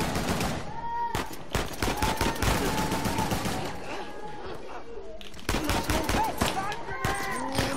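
Rapid, dense gunfire fills a firefight in Uncharted: The Lost Legacy, with volleys and automatic bursts cracking almost nonstop while voices talk over the shooting.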